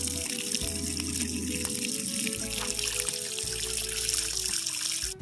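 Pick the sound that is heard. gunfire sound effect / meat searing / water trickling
water trickling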